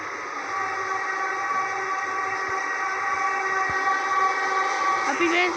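A train rolls along in the Blockapolipz Zombie Shooter video game, a loud steady rumble with sustained tonal whistle-like hum throughout and a brief rising swell near the end.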